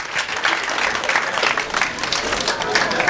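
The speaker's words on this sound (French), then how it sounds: "Les applaudissements." Steady applause from an audience at an association ceremony in Thiès, a dense, even wash of clapping sustained throughout with no break.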